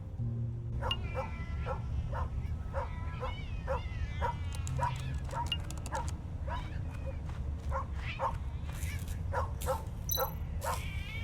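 A dog in the video game Tales of the Neon Sea barks and yips in a steady run of short, sharp calls with a few whimpers, loud and close over constant background music.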